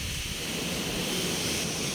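Strong wind blows steadily at the seaside, a dense, even roar with surf-like wash, close to the microphone and without any voices.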